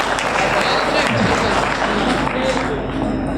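At a Hindi poetry recital, an audience claps in dense, continuous applause that runs unbroken for several seconds, loud and close, with crowd noise mixed in.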